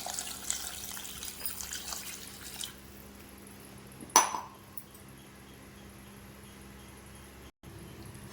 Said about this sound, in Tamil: இந்த டம்ளரில் 3 டம்ளர் தண்ணி ஊற்றுறேன்.